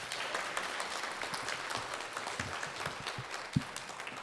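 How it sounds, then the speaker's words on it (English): Audience applause for the pianist at a high school spring band concert, a steady wash of many hands clapping through the hall at moderate volume, with one sharper clap standing out near the end. "Give him a round of applause,"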